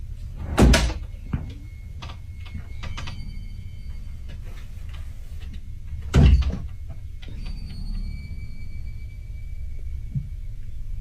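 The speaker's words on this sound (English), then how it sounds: "You can see the drawer opening and closing on its own." A drawer opens and closes on its own, giving two sharp wooden knocks several seconds apart against a quiet room hum, with faint small clicks in between.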